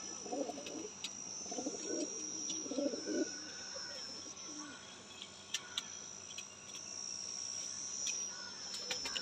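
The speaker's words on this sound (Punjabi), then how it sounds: "ਇਹ ਸਿਆਲਕੋਟੀਆ ਕਬੂਤਰ ਦੇਖ ਲਓ ਜੀ" Sialkoti pigeons coo in soft, low rolling phrases during the first few seconds, then fall quiet, over a constant high whine of insects or crickets throughout.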